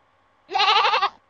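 A goat bleats once in a toy learning game, a loud, wavering, nasal cry lasting about half a second, alone against near silence.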